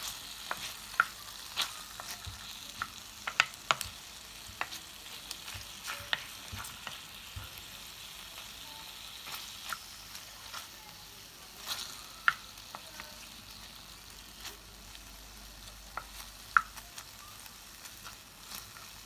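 Lamb pieces brown in a pan for a tajine with prunes and almonds, giving a steady close-up sizzle. Scattered sharp pops and occasional stirring clicks sound over it for the whole stretch.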